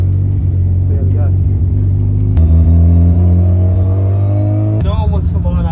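A rotary-engined sleeper car on low boost, ready to race against a Lamborghini and a Nissan R35, gives a loud, close, deep droning engine rumble whose pitch steps up sharply twice.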